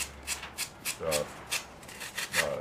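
A sanding sponge rubs rhythmically over foam for a tabletop game's snake-wall terrain piece: quick, close, rasping strokes repeat about three times a second, with a couple of faint voice fragments.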